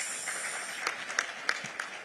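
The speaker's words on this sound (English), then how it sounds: "A big round of applause" An audience at an occupational safety and health conference applauds, a faint, distant patter of clapping with a few sharper claps standing out against a hissy room background.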